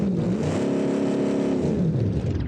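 A V8 engine in a homemade Invader car revs during a test drive, a loud close throaty roar that rises and holds before easing off, with a shaky rumbling undertone.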